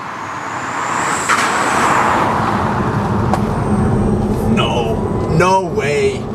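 An MG4 Xpower electric car with 435 horsepower accelerates hard, a loud, close roar of road and wind noise swelling steadily, with a rising electric whine and people talking over it.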